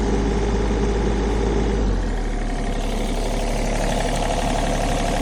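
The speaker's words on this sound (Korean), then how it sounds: "RPM을 조금 더 올려보고 소리 더 확인해 보도록 하겠습니다 엔진 소리도 저는 만족스러운데" A Kobelco SK35 mini excavator's diesel engine runs steadily and loudly, its rumble shifting to a higher, busier pitch partway through as the revs rise.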